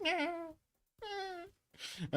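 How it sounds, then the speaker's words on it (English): A cat meows three times up close, each call clear and drawn out with short silent gaps between, the last one rising and strained. "Cat meows."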